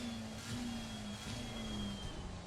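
Race car in Assetto Corsa Competizione at Kyalami accelerating out of a corner, a steady mid-pitched engine drone with a rising tone that holds loud and continuous throughout, with no talk over it.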